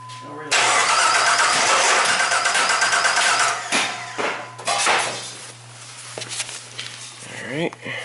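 A Jeep Liberty with a crank-no-start fault cranks repeatedly without catching, a loud, close, rhythmic churning of the starter that stops and resumes in shorter bursts, with a steady low hum underneath.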